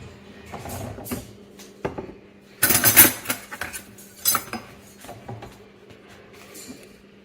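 A kitchen knife and cutlery clatter as they are grabbed and handled while sourdough bread is being worked, with scattered metallic clinks and a louder burst of rattling in the middle, close and fairly loud.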